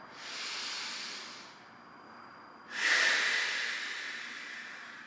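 Deep breathing during a back and hip stretching session: a long airy inhale, a pause, then a louder rushing breath sound that fades slowly, close and alone.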